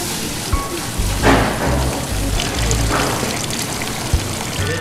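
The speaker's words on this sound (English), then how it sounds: "It is raining out." Steady rain falls outdoors in a dense, continuous hiss with scattered heavier drops and low rumbles, no voices heard.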